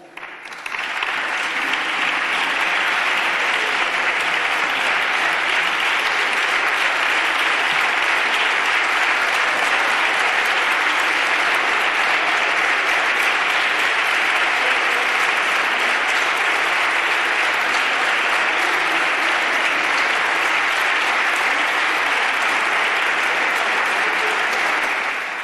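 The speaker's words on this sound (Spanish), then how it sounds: "Esta era la votación, los aplausos finales" Sustained, loud applause fills a parliamentary chamber after a vote approving a committee report, a dense even wall of clapping that holds steady for the whole stretch with no voices rising above it.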